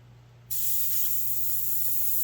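A steady, loud hiss of a spray gun spraying paint over a template on a Chevelle starts abruptly after a brief quiet moment and continues evenly without a break.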